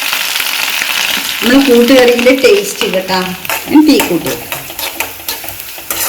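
Grated coconut frying in coconut oil for a Kerala koottu curry, a continuous crackling sizzle under a person talking.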